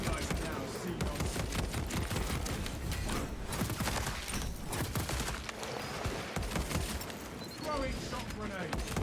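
A tactical marksman carbine in Space Marine 2 keeps up dense, rapid gunfire through a chaotic battle, with clattering impacts and voices talking underneath the shots.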